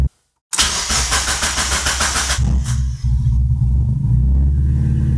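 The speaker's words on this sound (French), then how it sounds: "Ça démarre trop riche là" A Mazda MX-5 drift car engine running too rich cranks and catches after a short silence, then settles into a loud, close, rough idle with an uneven, throbbing rumble.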